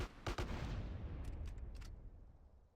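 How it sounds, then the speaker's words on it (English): Video game battle with a close run of blasts and gunfire followed by a rumbling, fading boom and scattered distant shots, faint overall. "So many explosions right now."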